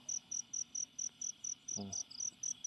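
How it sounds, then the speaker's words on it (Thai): A grasshopper chirps in the early morning outdoors, a regular train of short, bright pulses repeating evenly and close by, with a brief low sound breaking in partway through. "นี่ตักแตนโม"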